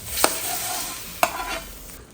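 Fried paneer and garam masala being stirred into a sizzling pan of paneer khurchan: a steady hiss broken by two sharp spatula scrapes about a second apart.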